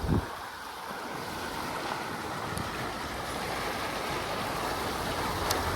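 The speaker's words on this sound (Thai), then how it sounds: "โอ้ลมแรงครับ" Strong wind blows at a flowing river during a fishing trip, a steady, loud, rushing roar of buffeting microphone noise and moving water that continues without a break and with no talk.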